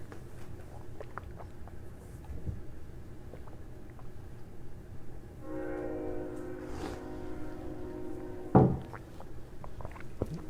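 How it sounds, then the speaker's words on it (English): A passing train in the background, a steady rumbling roll with a brief tonal horn-like blare midway and a sharp clank near the end, heard alone with no talk. "Just let the train pass."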